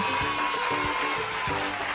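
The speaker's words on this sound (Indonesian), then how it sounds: "Mari adik-adik, disapa dulu dong, kasih tepuk tangan" Children at a Sunday-school worship service clap to welcome a guest speaker. The clapping is steady and even throughout, with a faint sustained tone beneath it.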